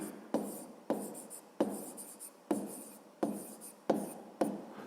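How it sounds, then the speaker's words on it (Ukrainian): Pen or pencil writing out a maths exercise for a 5th-grade class, with seven regular scratchy strokes that each start sharply and fade, close and clear, with no talking. "Запишемо так"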